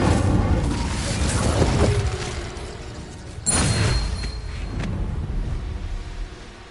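The Incendio fire spell is cast in Hogwarts Legacy, giving loud whooshing bursts of flame with booming blasts, one around the two-second mark and a sharper one near three and a half seconds, over steady game ambience.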